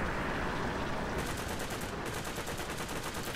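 Rapid, steady machine gun fire from aircraft in War Thunder rattles continuously in a fast even rhythm over a loud, broad engine roar, with no voices.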